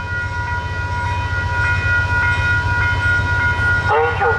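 Train rolling steadily past with a low rumble and rhythmic wheel clicks, a repeating automated voice warning coming through at the end.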